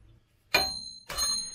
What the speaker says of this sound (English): using the hard hammer, and you get a lot more whack with it, but it's off dinging like a bell